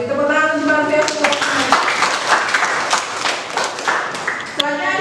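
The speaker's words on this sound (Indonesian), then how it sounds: "Tepuk tangan untuk Mbak Rofi." Audience clapping in a classroom session for a presenter, a teacher-training economics class in Indonesia; a short, moderately loud burst of hand claps mixed with voices talking over it.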